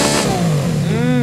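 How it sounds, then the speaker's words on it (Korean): A Ferrari Monza SP2 engine fires up and revs hard, a loud, close mechanical roar whose pitch swoops up and then settles over about a second. "제가 시동 한번 켜볼게요."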